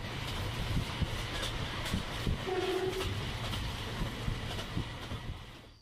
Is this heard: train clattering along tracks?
yes